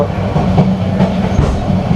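The Subarna Express rolls through Akhaura Junction railway station in Bangladesh, a loud, steady close rumble of the train with faint rhythmic wheel clatter and no voices.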